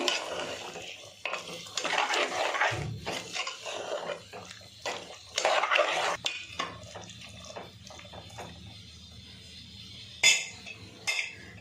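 Chickpea curry being mixed in a pot, with irregular metal scrapes and clinks of a spoon against the vessel, close and moderately loud in bursts, with pauses and a few sharper knocks near the end.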